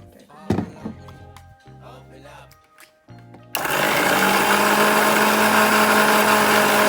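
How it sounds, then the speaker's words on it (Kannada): A mixer grinder blending rose petals with a little water into paste: after a few clunks and brief bursts, the motor kicks in and roars loud and steady, a dense continuous whine filling the rest of the clip. "ಮಿಕ್ಸಿಗೆ ಹಾಕಿದ್ರೆ ಇದನ್ನು ಪೇಸ್ಟ್ ಮಾಡ್ಕೊಳ್ತೀನಿ"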